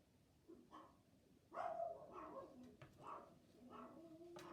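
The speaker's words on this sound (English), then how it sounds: "we have dogs barking on that one" Dogs bark in a short series of yips and barks at moderate distance over a quiet room background, with no talking.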